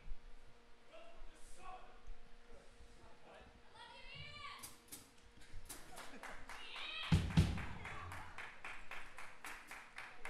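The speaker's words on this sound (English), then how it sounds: "You gotta clap for that." Audience at a live hardcore show for a band breaks into dense, steady clapping after a stretch of talk. The applause is close and fairly loud and runs to the end.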